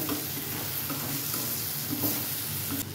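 Sprouted mung bean curry frying and sizzling in a pan while a spoon stirs it, a steady close sizzle with scraping stirs throughout and no talking.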